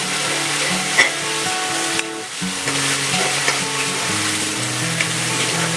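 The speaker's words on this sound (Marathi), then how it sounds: "यामध्ये आपण कांदा लसूण मसाला घालूया" Onion-garlic masala fries and crackles in a pan with occasional stirring, a continuous loud sizzle with music playing underneath.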